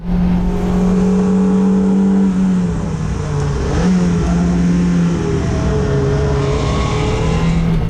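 A race car engine roars steadily through the opening corners of a race, loud and close, with pitch shifting as the driver changes gears, constant and dense throughout with no talk.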